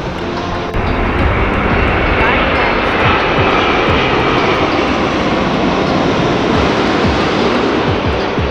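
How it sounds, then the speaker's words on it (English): Loud, steady roar of an airplane's engines as it lands on an airport runway, close by and continuous, the drone rising slightly as the aircraft passes. "you can watch them land the airplanes right there on the runway"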